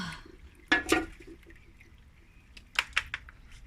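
Tomato stew with assorted meat being poured in a home kitchen: a couple of soft liquid splashes and drips, then a few brighter clinks and spatters, close and quiet with faint background hiss.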